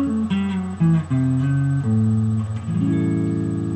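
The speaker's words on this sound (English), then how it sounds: "so the whole thing backwards sounds like this." Electric guitar runs down an A blues scale in reverse, a sequence of single sustained notes stepping through the pattern one after another, played alone and close with no talking.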